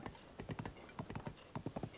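Horse hooves clip-clop in quick uneven bursts in Zelda: Tears of the Kingdom, a steady trotting patter close up with brief pauses between clusters of steps.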